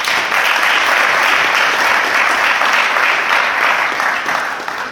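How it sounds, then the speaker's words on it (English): A conference audience at a small-satellite event gives a round of applause after a panel introduction, dense steady clapping filling the room loudly throughout and tapering slightly at the end. "All right, round of applause."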